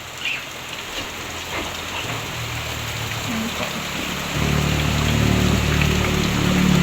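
Heavy rain pours down steadily, a dense hiss on surfaces, with a deeper rumbling roar swelling in partway through.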